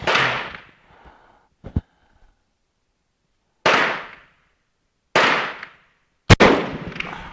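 A Carcano 1891 long rifle fired outdoors, with four loud, sharp shots that ring out and decay, spaced a second or more apart, plus smaller metallic clicks of the action between them.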